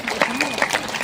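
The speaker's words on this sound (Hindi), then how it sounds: "सर एक बार आप भी खड़े हो जाइए, जोरदार तालियां आपके लिए भी।" Hands clapping at a crowded family gathering, a brief burst that comes in uneven pulses while a voice carries on over it close by.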